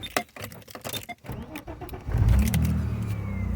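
A Vauxhall Calibra V6, previously failing to start due to a fuel pump relay fault, cranks briefly after a few clicks and catches, settling into a loud steady idle close by.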